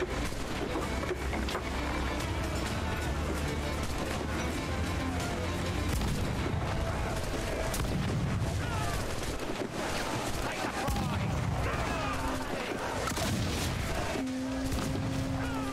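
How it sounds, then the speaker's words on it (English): Ship cannons firing in the game Assassin's Creed IV Black Flag, a dense barrage of booming blasts and crackling gunfire over continuous battle noise. "Alright, I'm on the cannon, I'm ready."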